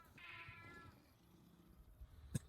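Cat meows fired from a catapult mod in Fallout New Vegas: one clear drawn-out meow near the start, then quiet game ambience and a sharp thump near the end.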